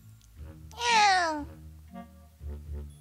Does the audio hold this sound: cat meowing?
yes